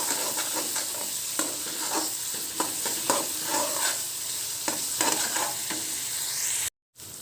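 Red chili and cumin spices frying in a pan while being stirred, steady sizzle punctuated by repeated scraping spoon strokes, close and clear, cutting briefly to silence near the end.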